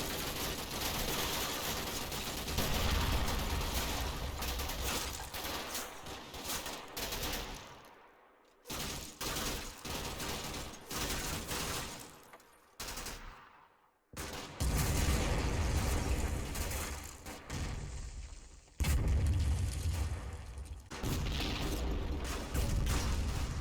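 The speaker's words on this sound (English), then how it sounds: "Suddenly, medium mortars start to fall in amongst my attacking soldiers." Medium mortar shells landing among attacking infantry in the wargame Combat Mission at Monte Cassino: loud, dense blasts and crackling fire roll on continuously, broken by a few brief silent gaps.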